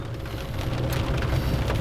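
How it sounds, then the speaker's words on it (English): Rain falls on a car in a steady, dense patter of drops drumming on the body, heard close and constant with no voices. "it already started raining."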